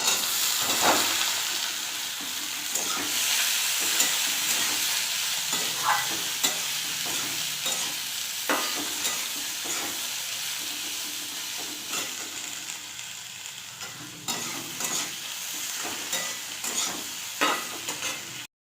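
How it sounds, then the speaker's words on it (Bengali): Boiled chickpeas and potatoes fry and get stirred in a pan with curry leaves, a steady close sizzle broken by repeated scraping and stirring strokes, with no talk. "আলু আমার ভাজা ভাজা হয়ে গেছে"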